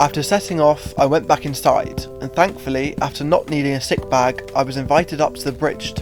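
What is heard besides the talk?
No everyday noise stands out behind the speech.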